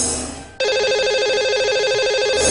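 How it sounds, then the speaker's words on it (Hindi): A telephone call being placed from a radio show studio: after a short fading tone, a loud electronic ringback tone begins and repeats steadily, with no talking over it. "तो चलिए इन्हें अब हम लगाएंगे कॉल"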